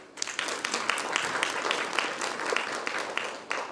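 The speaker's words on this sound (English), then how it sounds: "Let's clap once more." Audience clapping at a closing ceremony, a sustained round of many hands with a few sharper individual claps standing out, continuous and fairly close for the whole stretch.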